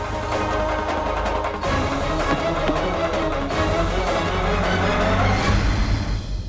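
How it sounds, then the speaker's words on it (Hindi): A car speeding along in a tense drive to a doctor, with a loud, steady engine roar and road rumble, a brief tire squeal partway through, and no talking. "नारजी प्लीज थोड़ा जल्दी गाड़ी चलाइए"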